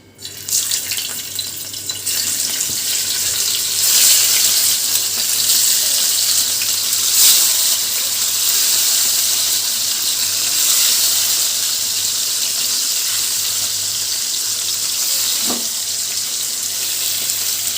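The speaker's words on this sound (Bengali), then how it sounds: "এবার মাছগুলো এতে এক এক করে ছেড়ে দেবো।" Prawns fry on high heat in hot mustard oil, a loud, continuous close sizzle with a brief squeal partway through.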